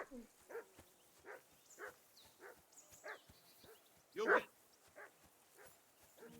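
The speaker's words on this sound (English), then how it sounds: "can hear that damn dog of yours barking" A dog in the medieval game Kingdom Come Deliverance 2 gives a rhythmic series of short barks and yips, moderately faint, with one louder bark near the end and background game sound.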